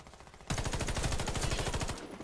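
M4A1 rifle in the video game Warface firing one sustained automatic burst of rapid, evenly spaced shots that starts abruptly and runs about a second and a half, loud and close, then stops.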